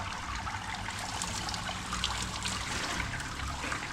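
Steady running water from a grooming sprayer rinsing a matted, flea-infested Cockapoo, a close, continuous hiss and trickle without pauses.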